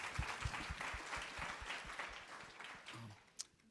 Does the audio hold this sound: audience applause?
yes